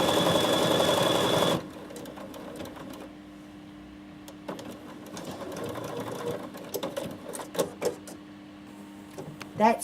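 A Bernina 7 Series sewing machine stitches steadily and loudly for the first second and a half, then falls silent while a person talks amid faint clicks and handling sounds.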